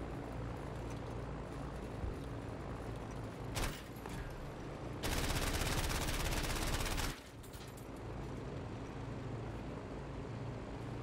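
Anti-aircraft gunfire in the Battlefield V video game: rapid automatic bursts crackling over a constant aircraft engine drone, with one dense, loud sustained barrage lasting about two seconds in the middle.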